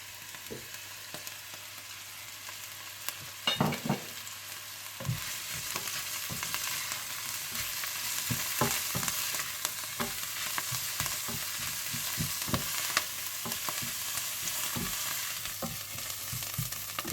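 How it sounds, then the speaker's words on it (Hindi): Onion, celery and garlic sauté in hot olive oil for pumpkin soup, a steady soft sizzle broken by scattered clicks and scrapes of stirring, fairly quiet with no speech. "आप इसमें प्याज, सेलरी और लहसुन के जवे डालकर 3 से 4 मिनट के लिए सोते कर लीजिएगा।"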